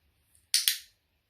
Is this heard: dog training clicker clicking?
yes